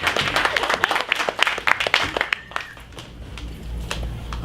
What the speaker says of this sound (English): Let's give a round of applause for Martin.